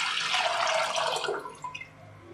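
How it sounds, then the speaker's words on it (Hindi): Water is poured into a saucepan in a steady, close, splashing stream that tapers off into a few drips, with no talking. "उसमें ये 4 कप पानी डाल देंगे।"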